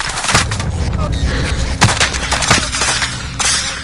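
Close, loud bursts of gunfire crack in rapid succession with sharp individual shots among them, as someone shoots nearby in an engagement.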